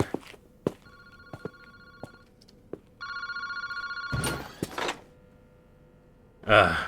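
A payphone rings in a park phone booth in the video game Paranormasight, repeated electronic bell tones broken by clicks and knocks, with a brief burst of noise near the end.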